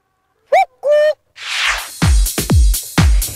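A voice imitates a cuckoo's two-note call, several hooting calls in a row following a couple of brief tonal sounds, close and clear.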